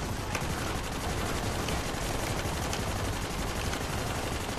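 Dense, continuous gunfire from the third-person co-op shooter Army of Two: The 40th Day, sustained bursts and rapid shots filling the whole stretch loudly with no pause.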